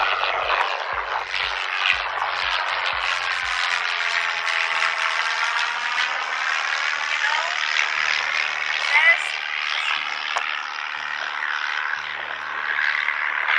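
An airplane flies overhead with a steady droning hum whose pitch slowly shifts as it passes, while a person talks over the engine sound.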